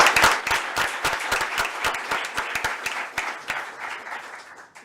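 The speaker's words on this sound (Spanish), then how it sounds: "Os pido un aplauso, por favor, para ellos" A small group applauds speakers at an online talk, a run of distinct claps that thin out and fade to near silence over about five seconds.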